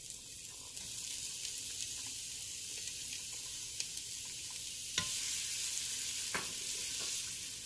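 Onions sizzle in hot bacon fat inside a Ninja Foodi, a steady broadband frying hiss with occasional sharp crackles and stirring clicks, close and continuous with no talking.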